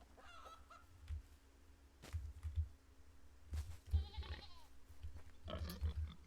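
Sheep in the Medieval Dynasty video game bleat in a few scattered, fairly faint calls among other farm animal honks over a quiet ambient hum, with no talk.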